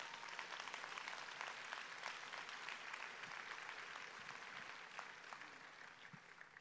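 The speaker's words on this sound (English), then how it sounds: "Just give Greater Birmingham Ministry a mighty hand of applause." Banquet audience at a ministry anniversary dinner giving sustained applause, a dense, even wash of many hands clapping from start to finish, fairly near and steady.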